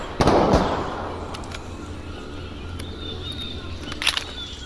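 Gunfire in a WWII-themed blocky online shooter game: a loud close shot or blast at the start, then a few fainter distant pops and cracks over ambient game noise.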